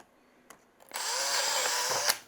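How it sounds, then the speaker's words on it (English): A power drill bores out a suspension arm on a Traxxas XRT RC truck: a brief click, then a loud, close, steady high whine for about a second before it stops. "you gotta drill out all 4 arms"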